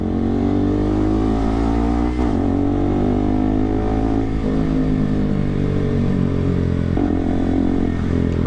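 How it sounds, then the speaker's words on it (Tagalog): Road traffic with motorcycles and cars passing close by, including a KTM RC200 motorcycle, a loud continuous engine drone with rising and falling revs and a few sharper passes, with no talking. "Look at that traffic."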